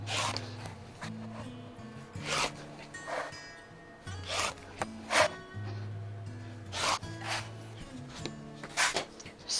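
Fabric strips being cut for a quilt: a series of short, close rasping strokes, about a dozen, in an uneven rhythm with quiet pauses between them.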